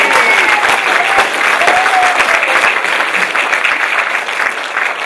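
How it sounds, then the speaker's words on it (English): Loud, sustained applause from a meeting audience of the Rise Up Australia Party, dense steady clapping filling the whole stretch with no talk over it. "Yeah, I think we could give a clap."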